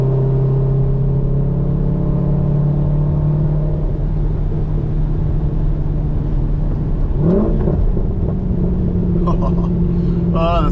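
A cammed C5 Corvette V8 with a six-speed manual, driven in the rain, drones steadily and loud from inside the cabin, then its pitch sweeps upward as the engine revs hard near the end.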